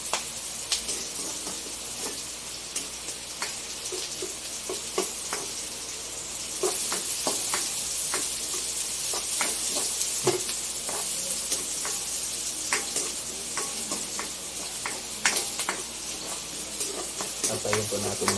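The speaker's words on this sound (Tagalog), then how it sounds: "Antayin po natin mag golden brown yung ating bawang." Chopped garlic and ginger sizzle steadily in a hot pan, a constant frying hiss with occasional clicks and scrapes of stirring, close and fairly loud.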